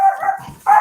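Dogs barking in two loud bursts, one at the start and another near the end, with quieter yelping between them and no talk.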